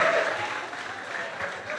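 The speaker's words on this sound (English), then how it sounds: "A round of applause for him once again." An audience at a career expo gives steady, dense applause that fills the whole moment without a break, moderately loud and close, with a voice faintly mixed in.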